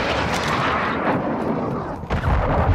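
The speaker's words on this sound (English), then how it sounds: "Friendly cruise missile deployed." Cruise missile strike explosions in Call of Duty Modern Warfare 2 roar in a dense, continuous barrage of loud booming blasts, heavy and close, with a fresh deep impact near the end.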